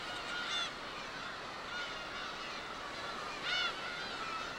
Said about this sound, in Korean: 어린 새끼 매를 노리는 갈매기